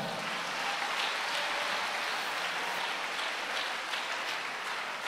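A church congregation applauds and acclaims during a worship service at Groupe Bonne Nouvelle, Rue 12E Kwazad: dense, steady clapping fills the whole stretch at an even level, with no voices standing out.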